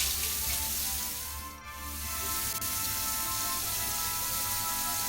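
Tap water runs steadily into a sink while face cleanser is rinsed off, a continuous close hiss with a brief dip as hands pass through the stream, and no talking.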